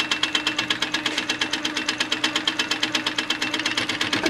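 Sewing machine quilting fabric, stitching a quilt in one direction, with a fast, steady needle rhythm running continuously and close up.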